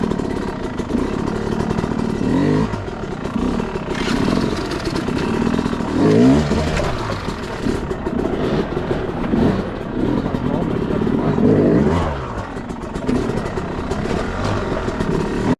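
Yamaha YZ250 two-stroke dirt bike engine revving up and pulling through its gears, with repeated rising and falling acceleration sweeps, loud and close, with some mixed background noise.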